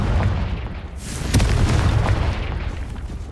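A Confringo blasting spell explodes in a video game, a single dull boom with a sharp crack near the middle that rumbles out over a few seconds, close and fairly loud with no talk.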